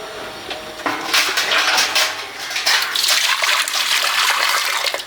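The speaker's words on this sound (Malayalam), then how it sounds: "കുറച്ച് വെള്ളം ഒഴിച്ച് കൊടുക്കണത്." Water poured into a homemade flower pot made from PVC pipe, a steady splashing, trickling pour that runs close and fairly loud for several seconds with no talking.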